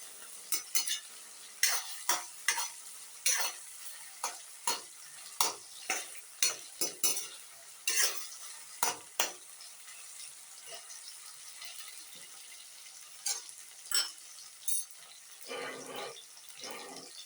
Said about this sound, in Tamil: வெங்காயம் நல்லா ப்ரௌன் கலர் ஆகிற வரைக்கும் வதக்கிக்கோங்க.